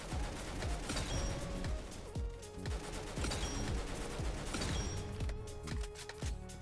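A shotgun fires repeatedly in the video game Weird Gun Game, a run of sharp, loud blasts at a fairly steady pace with short gaps between some shots.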